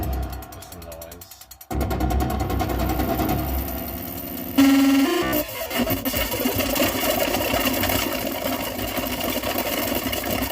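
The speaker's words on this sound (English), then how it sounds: "I've also got flurry with some noise." Noise from a Flurry module in a Eurorack synth, a dense mechanical grinding texture that cuts abruptly, then surges back louder with a brief tonal blip before settling into steady rough buzzing.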